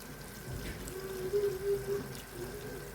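Warm boiled water poured into a dish of food seasoned with spices, salt and pepper, making a steady, soft running trickle with a few slightly louder surges in the middle, no talking.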